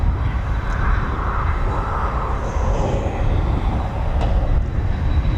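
Ryanair jet airliner engines at East Midlands Airport make a steady broad roar that holds loud and even throughout, with no talk over it.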